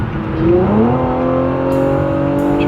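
A Infiniti G37 sedan with Flowmaster Flow FX resonators accelerates, heard from inside the cabin, the exhaust droning with a smooth, rising tone, loud and steady with no talking.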